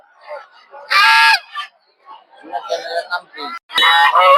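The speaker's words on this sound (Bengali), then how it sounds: "এগুলো সব হচ্ছে দেশি মহিলা হাঁস" Native female ducks at a crowded rural livestock market let out loud, harsh honking quacks in bursts close by, separated by quieter chatter and market voices in between.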